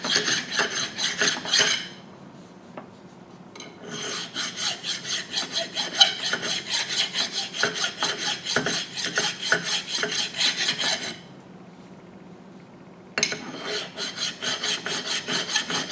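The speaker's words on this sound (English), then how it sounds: "So I'm just going to take a file and file that and see if that'll clean up." A hand file rasps back and forth over a metal ridge on a milling machine part, rapid rhythmic strokes in close bursts separated by short pauses.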